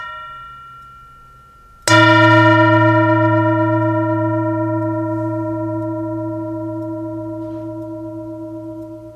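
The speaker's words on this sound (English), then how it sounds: "Enjoy the sound of the bell." A mindfulness bell struck once during a Sunday sangha gathering, a single bright resonant strike ringing out with long, slowly fading overtones in a quiet room.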